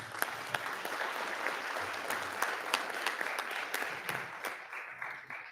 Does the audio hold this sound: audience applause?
yes